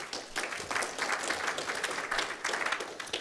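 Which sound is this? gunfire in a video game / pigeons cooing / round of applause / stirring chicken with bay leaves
round of applause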